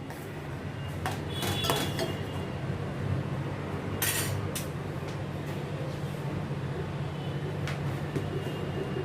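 Utensils clink and scrape in a pan as stuffed okra and potato pieces are stirred into masala for a dhaba-style bhindi aloo sabzi, with steady close clatter over a low kitchen hum.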